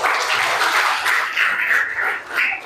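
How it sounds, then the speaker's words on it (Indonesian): A classroom of pupils claps together, dense, continuous applause for a few seconds that swells and dips slightly, heard fairly close without talk. "tepuk tangan"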